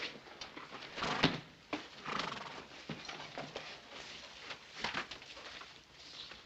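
A horse whinnying amid faint hoof clip-clops and outdoor bustle in an old western town scene, a couple of moderate neighs rising over a steady background hiss.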